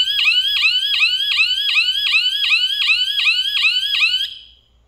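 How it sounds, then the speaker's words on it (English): An Arduino-built airsoft capture-the-flag station sounds its alarm: a loud, rapid series of about a dozen identical rising electronic chirps in steady rhythm, alone, stopping abruptly after roughly four and a half seconds. "You'll hear the alarm here."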